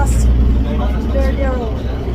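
Tour bus ride in Varadero, Cuba, with a steady low engine rumble and road noise filling the cabin while people talk throughout.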